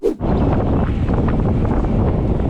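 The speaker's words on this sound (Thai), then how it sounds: "วันนี้ลมแรงมาก ลมไม่เป็นใจมากเลยครับ" Strong wind buffets the microphone outdoors, a loud, steady roar that continues after a short burst at the start, with no talking.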